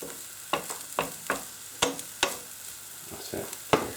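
Onions frying in a little oil sizzle softly while a utensil stirs them, giving a series of sharp scraping clicks about every half second over the low hiss.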